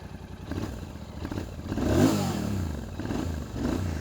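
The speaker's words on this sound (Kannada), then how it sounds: "ಈಗ ಇಂಜಿನ್ ಕಿಲ್ ಸ್ವಿಚ್ಚು ಆನ್ ಮಾಡಿ ನೋಡಿ, ಇಲ್ಲಿ ಸೌಂಡ್ ಕೇಳಿಸ್ಕೊಳ್ಳಿ ಹೆಂಗಿದೆ ಅಂತ" A Royal Enfield GT 650 twin-cylinder motorcycle with dual exhausts cranks and rumbles into life nearby, the engine swelling in a throaty rev before settling into a steady, uneven idle.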